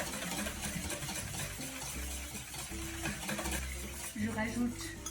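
A spoon steadily whisks crepe batter flavored with vanilla extract, scraping and clinking in a bowl with a continuous wet churning under a speaking voice.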